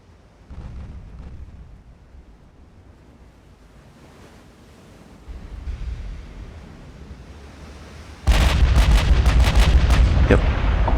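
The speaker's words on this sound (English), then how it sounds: "I think that was one of the 8-inch shells hitting." Heavy 8-inch naval shells strike a warship in the Ultimate Admiral: Dreadnoughts naval battle game, a deep booming impact crashing in loud and sustained over a low rolling sea and gunfire rumble.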